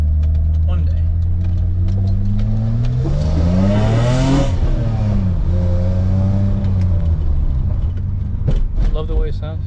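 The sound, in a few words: BMW E30 engine revving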